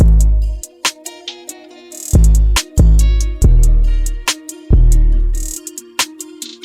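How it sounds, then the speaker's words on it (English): A hip hop beat with booming 808 bass hits, crisp rapid hi-hats and sharp snare cracks over a sparse melody, loud and punchy, no vocals. "I feel like the hi-hat drives most of the bounce for this beat"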